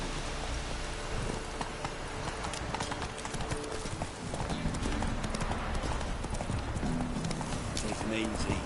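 Roach, a horse in The Witcher 3, clip-clops at a steady pace through rain, the hoofbeats dense and constant beneath a layer of rainfall, with talk in the background.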